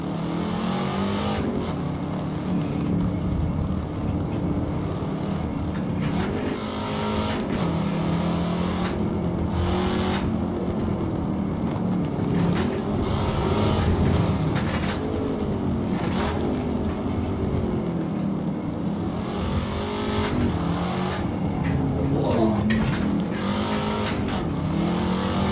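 Holden Torana GTR XU-1 muscle car engine revving in a racing video game on a motion simulator rig, a continuous loud droning roar with shifting pitch and tire noise throughout, no talk.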